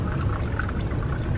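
Water pours steadily from a spa water dispenser on a cruise ship, a continuous close splashing stream with no talk over it.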